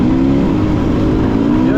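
A Beta 300RR dirt bike engine runs steadily up close, a continuous throaty drone with a mechanical rattle and no pauses.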